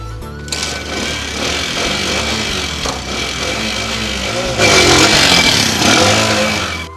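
A motorcycle engine in a rural Hindi village film drones steadily and loudly for several seconds, then revs up louder near the end, with no talking over it.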